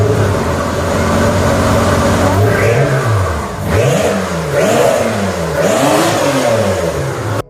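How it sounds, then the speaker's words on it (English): A Ford GT90 with a 6-liter quad-turbocharged V12, in Need for Speed 2, idles then revs repeatedly, its pitch rising and falling in several loud sweeps. "The GT90 was powered by a 6-liter quad-turbocharged V12 engine, producing 720 horsepower and 660 pound-feet of torque."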